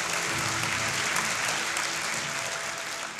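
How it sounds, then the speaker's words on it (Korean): A large audience at a university's 25th anniversary ceremony gives a big, sustained round of welcoming applause, loud and dense throughout with no speech over it. "큰 박수로 환영해 주시기 바랍니다."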